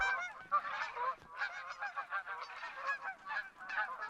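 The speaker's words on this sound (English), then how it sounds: "this is a feed zone for the Canadian Geese." A flock of Canada geese at a feeding area in the video game theHunter: Call of the Wild calls continuously, honks overlapping in a rapid, uneven chorus at steady moderate loudness.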